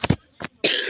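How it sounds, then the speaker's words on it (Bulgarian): A woman with a grass and dust allergy coughs in two or three quick, close, harsh bursts, with a short gap before a longer final cough. "Да знаете, че тя много кашля."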